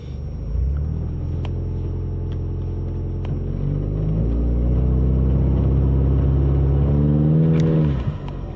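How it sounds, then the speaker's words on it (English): Ford Mustang EcoBoost in first gear, its engine droning steadily at launch revs, then climbing and rising in pitch before dropping off sharply near the end, loud and close with no voices. "I can barely start building a PSI before it starts spinning the tires."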